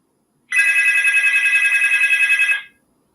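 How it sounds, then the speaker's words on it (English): A phone rings with a steady electronic trill, loud and close, in one continuous two-second burst that stops abruptly, with no talking over it. "this is the weird phone, the one I can't even see who's calling"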